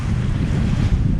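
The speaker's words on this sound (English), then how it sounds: "There's a big wave coming up now." Heavy wind and rushing sea surge around a sailboat under double-reefed main and partly furled genoa in a mid-Atlantic gale, a big wave building into a steady loud roar with no talk.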